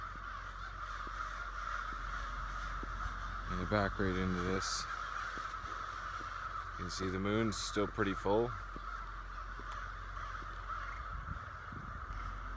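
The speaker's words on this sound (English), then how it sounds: "There's a lot of crows." Many crows cawing in trees at dawn with the moon still up, harsh repeated caws in bursts at mid-distance, under someone speaking over steady outdoor background noise.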